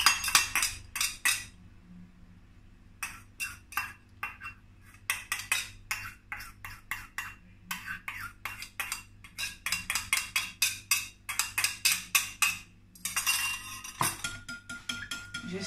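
A spoon clinks repeatedly against a glass while stirring lemon juice and strawberry syrup for a fruit cocktail, with rapid bright metallic taps in bursts and brief pauses, close and clear.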